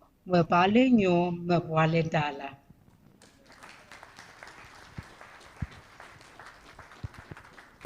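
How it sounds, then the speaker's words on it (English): After a brief loud voice, an audience at an MTN Uganda corporate event gives a round of applause for Yolanda Cuba, a fainter, scattered clapping with occasional sharper claps that carries on to the end. "Another round of applause for Yolanda Cuba."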